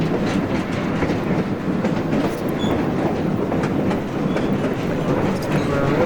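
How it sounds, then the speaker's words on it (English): A steam train crosses a river bridge with a small locomotive pushing at the rear, giving a steady, loud, close rumble with rhythmic clickety-clack of wheels on rails throughout. "Oh, a little locomotive right there in the back."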